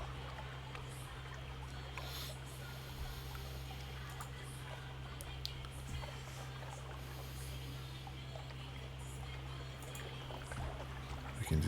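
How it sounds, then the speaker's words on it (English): Soft, steady wash of waves lapping against a ship's hull in Sunless Sea, a continuous low murmur of water with faint trickles, no talking. "We can just enjoy the sounds of the waves lapping against the ship"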